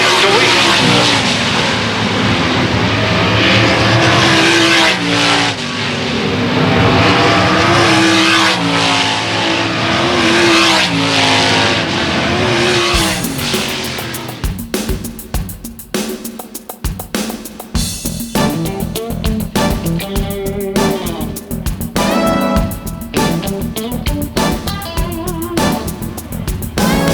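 Race cars roar through a heat race at the Kevin Gobrecht Classic, a loud sustained engine drone with revving and cars passing, under an announcer's voice.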